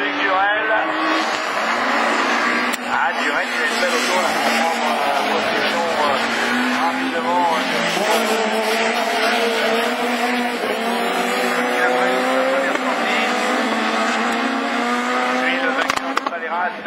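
Rallycross Super 1600 race cars, including a Clio and an Audi, roar continuously at close range with rising and falling engine notes and tire squeal, under steady commentary from an announcer.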